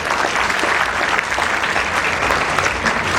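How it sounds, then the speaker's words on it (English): A charity event audience gives a warm round of applause, continuous full-room clapping at a steady loud level for the whole stretch. "warm round of applause."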